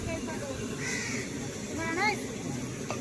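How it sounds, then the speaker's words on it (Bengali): A crow caws outdoors, a couple of clear, fairly close calls rising over a steady background hum, with people talking nearby. "ওই যে পাখি"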